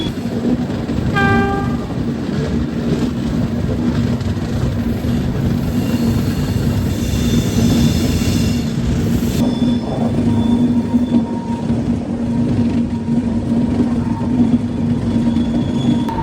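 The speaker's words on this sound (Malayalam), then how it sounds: "നമ്മുടെ Kerala Sampark Kranti super fast express കൊല്ലം ജംഗ്ഷനിലേക്ക് കയറുവാണ്" The Kerala Sampark Kranti Superfast Express pulls into Kollam Junction. A long rumble of wheels and carriages runs throughout, with a short horn blast near the start and a steady rolling clatter as it arrives.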